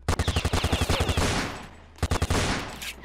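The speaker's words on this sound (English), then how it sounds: "Oh, a minigun?" Minigun in a Fortnite knockoff video game firing a fast burst of rapid shots, then a sustained whirring roar, a pause, and a second brief burst, loud and close.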